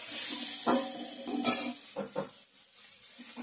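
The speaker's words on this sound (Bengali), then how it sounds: "বেগুন ভাজাটা বসাই দিলাম।" Eggplant slices frying in a pan of oil, a soft continuous sizzle broken by several scraping and stirring clatters from a spatula, close and moderately loud with no talking.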